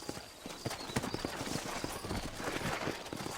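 Horse hooves clip-clop in a steady, brisk rhythm as horses walk in Red Dead Redemption. The hoofbeats are fairly quiet and sit under faint game ambience.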